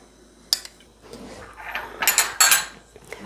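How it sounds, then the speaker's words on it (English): A wooden spoon spreads fermented soybean paste in a pot for doenjang jjigae, giving clinking scrapes and knocks against the pot, bursts of scraping growing busier toward the end, with no talk. "I'm using wood spoon to spread up all this bean paste evenly."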